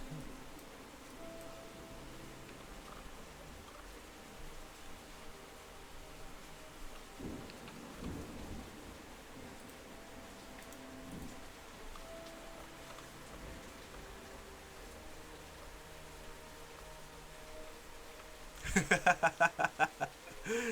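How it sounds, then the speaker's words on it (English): Rain hisses steadily at a low level, with a dull rumble of thunder partway through and a louder crackling burst near the end, all fairly distant and without talk. "Is it raining in space?"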